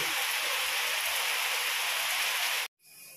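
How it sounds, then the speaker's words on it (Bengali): Steady, loud rain pours down in an even, dense hiss, then cuts out abruptly just before the end, returning more softly. "দেখো বৃষ্টি পড়ছে"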